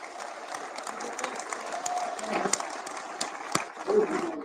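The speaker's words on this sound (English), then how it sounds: "Let's give Jeff Rath another round of applause." Crowd applause at an Alberta Prosperity Project town hall, scattered clapping with uneven bursts and a few sharper claps, mixed with crowd noise and some talk underneath, rising slightly toward the end.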